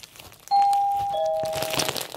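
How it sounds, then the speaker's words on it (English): A two-tone electronic doorbell chime, a clear high note followed by a slightly lower one, ringing close by with a faint rustle underneath. "Doorbell rings."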